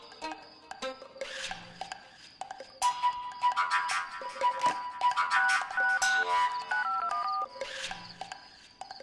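Telephone ringtone in a Hindi TV drama scene, a melodic electronic tone repeating over several seconds, moderately loud with background music.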